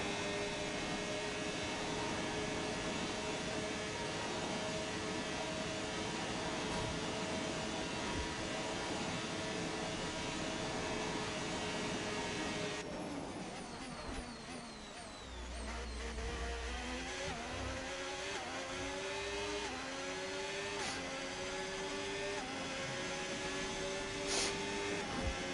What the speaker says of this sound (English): Car sounds so different in this camera view.